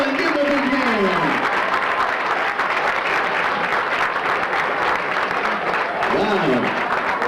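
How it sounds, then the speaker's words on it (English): Audience applause at an elementary school graduation, steady dense clapping throughout with a voice speaking over it near the start and again near the end. "keep the applause rolling. Give him a big hand."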